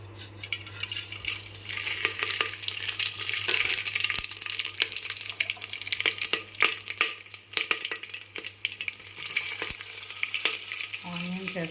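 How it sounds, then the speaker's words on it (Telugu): Whole spices and shahi jeera crackle and sizzle steadily in hot oil for vegetable biryani, with scattered sharp pops and occasional stirring clinks of a utensil against the pot throughout, close and continuous with no talking. "ఇవన్నీ ఆయిల్ వేడెక్కగానే వేసేద్దాము."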